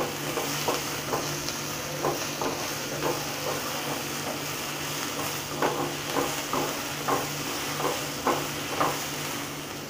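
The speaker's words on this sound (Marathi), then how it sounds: "त्याच्यामध्ये आता हे 2 टोमॅटो टाकायचे आणि मिक्स करून घ्यायचे" Two tomatoes stirred into frying onions in a pan, a steady sizzle with regular scraping stirs every second or so, close and alone.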